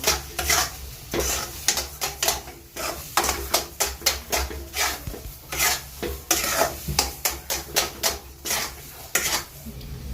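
A spoon scrapes and stirs gram flour halwa in a pan in quick, repeated strokes, close and clear, with a faint sizzle underneath and no talking.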